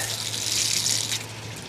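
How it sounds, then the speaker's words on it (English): Raw water pump aboard a boat running steadily, a continuous rushing flow of water like a gushing tap with a low hum beneath, fairly close and unbroken for the whole stretch. "turn the raw water pump off"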